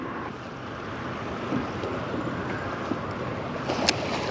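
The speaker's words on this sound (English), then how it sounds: "We got a 10 to 15 knot southeast wind, supposed to have gusts of 20, 25." A 10 to 15 knot southeast wind gusting over a choppy lake, heard as a constant broad rush of wind noise with lapping water beneath and a few faint knocks.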